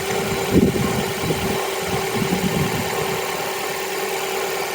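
A Mazda MX-5 engine idles steadily after an oil change with a low, even rumble and a constant hum, close by, with no voices.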